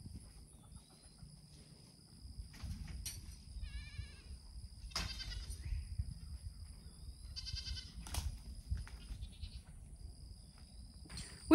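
Goats on a farm bleat repeatedly, several separate wavering calls spread across the stretch at moderate distance, with quiet rustling and scattered knocks between them and no talk.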